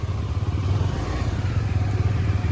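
A motorcycle on a ride, a loud, close, steady engine drone with a rapid pulsing throb, continuous through the moment without speech.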